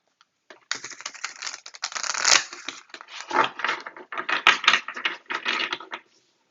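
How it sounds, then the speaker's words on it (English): Tarot cards are shuffled by hand in rapid, uneven bursts of crisp riffling and slapping, close and fairly loud, with brief pauses between handfuls and no talking. "let's get to shuffling"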